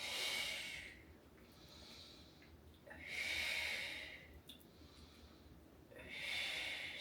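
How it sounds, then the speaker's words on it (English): Slow, steady breathing during a ring-based exercise routine: three long, airy exhales with quieter inhales between them, close and even, with no talk over them. "Exhale to reach. Inhale to bend."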